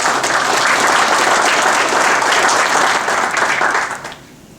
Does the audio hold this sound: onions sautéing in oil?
no